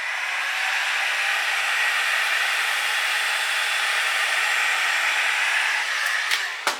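A heat gun blows a steady, breathy roar while post-heating vinyl wrap on a motorcycle helmet, running evenly for about six seconds before a few brief clicks and knocks at the end.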